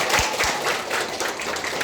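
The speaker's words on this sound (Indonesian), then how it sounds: "Tepuk tangan semua" A seated group of students claps together after a classroom expression exercise, a brief, even burst of applause that holds steady throughout.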